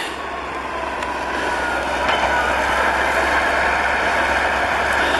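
A big, heavy Caterpillar D8 bulldozer engine runs steadily outdoors, giving a continuous loud diesel rumble and mechanical roar that builds slightly at mid-distance, with no talking.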